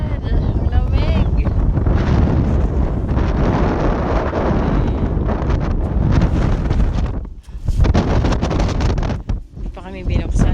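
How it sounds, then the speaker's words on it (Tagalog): A strong, cold wind at a resort roars into the microphone as a loud, constant buffeting. It drops out briefly near the end, and voices can be heard talking under the gusts. "Ang lakas ng hangin."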